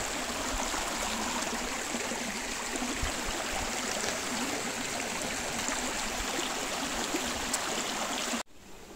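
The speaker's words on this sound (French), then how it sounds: "Donc là il y a un ruisseau de chaque côté là, en principe normalement." A forest stream in the Nieste valley flows with a steady, close rushing and babbling that fills almost the whole stretch and then cuts off abruptly near the end.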